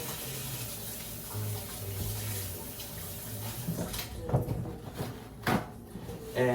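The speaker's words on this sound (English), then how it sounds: "Now we're gonna just wash my hands." Hands being washed under a running kitchen tap: a steady stream of water into a sink, close by, with splashes and a few sharp knocks toward the end.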